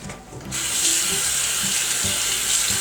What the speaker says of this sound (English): Now I'm using my rag and I'm ready to do my sink.